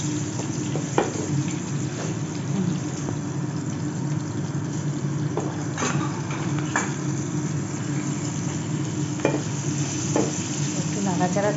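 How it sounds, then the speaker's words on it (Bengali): Black cumin and green chillies tempering in hot oil in a wok, for a katla fish dish with mustard and milk: a loud steady sizzle with occasional spatula taps and scrapes, no talking. "এবার আমি কাঁচা লঙ্কা আর কালো জিরে ফোড়নে দিচ্ছি"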